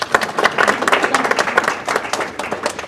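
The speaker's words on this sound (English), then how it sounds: "Logan, let's clap for him" Audience clapping at a school board meeting, a few seconds of scattered indoor applause from a modest crowd, steady and fairly close with no voices over it.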